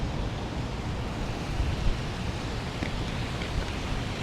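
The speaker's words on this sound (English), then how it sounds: "It might be a bit windy up here" Wind gusting steadily across a high rooftop park at Bangkok's BTS Visionary Park, level 10, a loud broadband roar with buffeting pushes against the microphone and no voices.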